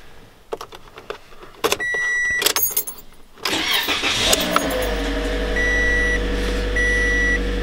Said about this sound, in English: So why not do the last cold start on her before she goes bye-bye.